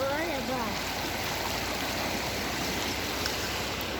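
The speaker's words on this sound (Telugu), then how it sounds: "పొద్దుటూరు తాలూకా గోపల్లె విలేజ్ బ్రిడ్జి నిండి పైన నీళ్ళు పోతున్నాయి." Floodwater rushes over a village bridge at Gopalle in Proddatur taluk, a loud, steady roar of flowing water that never lets up, with a brief voice near the start.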